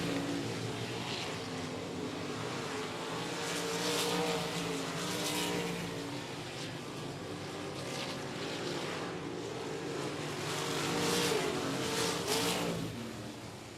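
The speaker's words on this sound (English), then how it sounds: "Here we go, back underway once again for some 305 sprint car racing." 305 sprint race cars roar around the 105 Speedway dirt track in a steady, loud engine drone, with engine pitch rising and falling as cars pass, continuous and dense with no talk over it.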